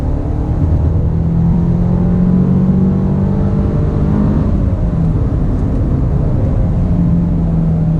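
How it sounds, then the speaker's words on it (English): Engine of a 2019 Mercedes-Benz A220 with a DCT gearbox, heard from inside the cabin as a steady droning rumble with rising and falling pitch as revs shift through quick downshifts. "the downshifts are very, very quick with the DCT"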